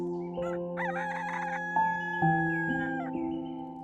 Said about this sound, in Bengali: মুরগির খোঁয়ার থেকে হালকা শব্দ আসছিল